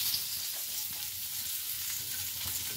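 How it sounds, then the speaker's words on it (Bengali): Onions fry in hot oil left over from frying Bombay duck fish on a medium gas flame, crackling and sizzling in a dense, continuous hiss close up, with no talking. "ওই তেলেতে আমি এগুলো এবার একটু এখানে আমি ফ্রাই করে নেব।"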